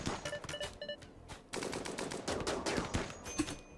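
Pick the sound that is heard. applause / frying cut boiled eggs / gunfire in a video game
gunfire in a video game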